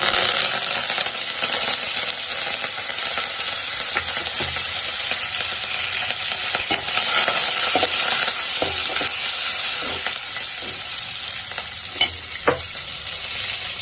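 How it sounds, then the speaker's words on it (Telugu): Cumin, mustard seeds, dried red chillies and curry leaves crackle and sizzle loudly in hot oil, a continuous fizzing hiss with scattered sharp pops and a stirring clink or two. "పప్పు తాలింపులో వేసుకోవాలి"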